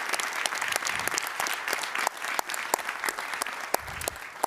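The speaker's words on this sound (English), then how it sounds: "This applause is for you." Delegates and partners applaud at the closing of a data innovation summit, a full, continuous round of clapping with distinct sharp claps standing out near the listener.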